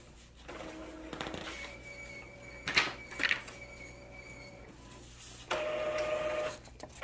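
Sublimation printer running a sock design, soft mechanical whirring and carriage movement with a couple of brief clicks and a louder motor stretch near the end, faint and close.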